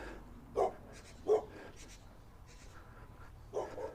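A dog behind a fence on a town street gives three short, muffled barks or woofs at a distance, spaced apart over quiet background noise.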